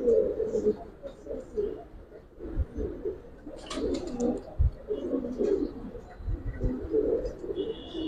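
Giribaz pigeons coo and flutter after release, with soft wingbeats and scuffling mixed with bird calls under nearby talking.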